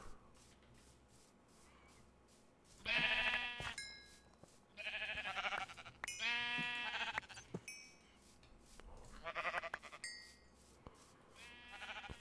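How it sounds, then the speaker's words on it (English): Blocky Minecraft sheep, heard in the FTB Continuum modpack, bleat several times in wavering calls spaced a few seconds apart over a low background, with no talking. "Oh, more sheep. Oh, we're getting lots of sheep anyways."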